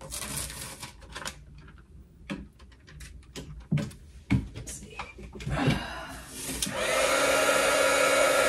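A hair dryer heats old glue on a watercolor craft piece, starting after a stretch of sparse clicks and handling knocks and rising into a steady, loud blowing roar over the final seconds.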